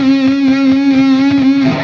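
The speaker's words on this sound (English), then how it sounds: "you pull the string, and then you push it over, and then you pull it back" An electric guitar holds one sustained, distorted lead note while the string is bent and shaken in bluesy vibrato, so the pitch wavers slightly and never settles back; it plays loud and alone before a brief pick noise at the end.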